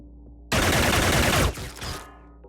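A single loud burst of automatic gunfire in the turn-based strategy game Xenonauts lasts about a second, then tails off into a fading echo over quiet game ambience.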